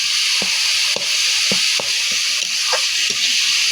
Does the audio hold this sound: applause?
no